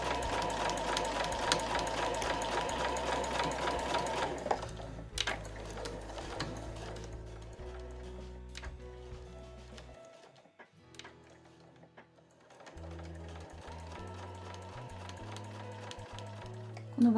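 A sewing machine stitches fabric for a house-shaped key case, running in a steady close mechanical whir with a brief pause midway before resuming.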